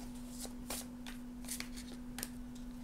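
Tarot cards being shuffled by hand in a quiet room, giving several soft riffling bursts and brief flutters at irregular intervals over a low steady hum.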